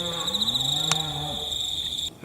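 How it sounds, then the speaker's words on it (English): Cattle on a working cattle farm in Australia lowing in a long, drawn-out moo that rises and falls over a steady high insect drone, with a brief sharp click partway through. "y'all are hearing cows here"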